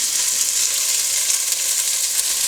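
Onions and curry leaves sizzle steadily in hot oil in a pan while browning for a South Indian chicken curry, giving a dense, continuous hiss that is loud and close, with no talking.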